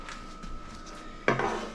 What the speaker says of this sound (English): we're going to put this in cake pans.